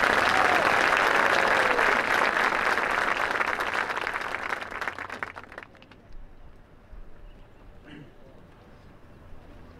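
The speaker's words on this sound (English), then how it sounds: "Let's give them a round of applause." Audience applause at a high school graduation ceremony, loud and dense clapping from a large crowd for about five seconds before fading out to quiet room tone with scattered faint claps.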